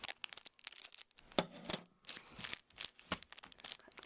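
Close crinkling and rustling of a plastic bag of cassia obovata powder comes in short bursts, with sharp snips and tearing sounds as the bag is cut open.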